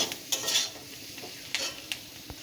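Papaya with turmeric and green chili is stirred in a pan, with a few sharp scrapes and clinks of a spatula over a faint, steady sizzle. Short and quiet, with no voices.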